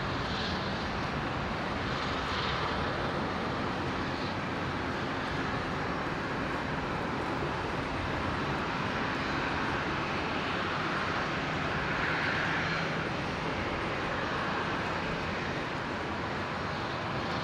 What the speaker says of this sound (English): So there's the 220 just beginning its taxi.